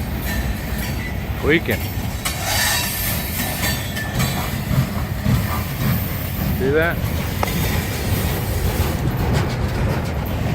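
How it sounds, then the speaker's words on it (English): Long freight train rolling past slowly, more than 50 cars with new truck chassis, a steady rumble and rattle of the wagons with occasional wheel squeals, close by under brief talk. "That is one long train."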